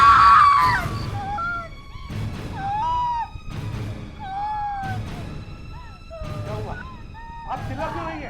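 A frightened woman screams and wails in several long, rising and falling cries, loud and close, with short pauses and other voices between them.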